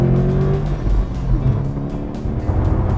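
Car cruising on a highway at about 70 mph, a steady loud low engine and road rumble with wind noise running throughout without a break.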